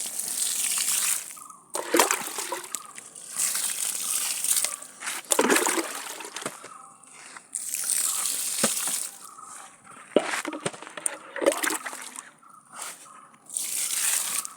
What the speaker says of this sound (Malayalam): നമുക്ക് ചെടിക്ക് വെള്ളം ഒഴിക്കാം